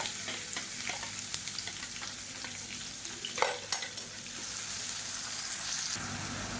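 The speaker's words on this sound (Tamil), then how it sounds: "இப்போ வெங்காயம் வதங்கிட்டு இருக்கு" Finely chopped onions and green chillies sauté in hot oil with a steady low sizzle and crackle, a few brief stirring scrapes standing out near the middle, with no voices.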